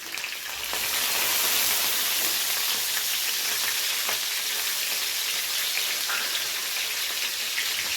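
Nigella seeds, slit green chilies and chopped ginger fry in hot oil, a loud continuous hiss and crackle that swells after the first second and stays dense and even, with no voices.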